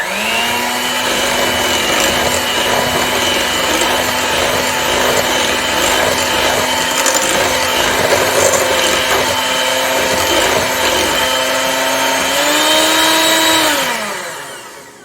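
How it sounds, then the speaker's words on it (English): An electric beater whirs steadily through banana bread batter with chocolate chips and walnuts, a loud, close, continuous motor drone. It briefly rises in pitch near the end, then winds down to a stop. "A final whisk."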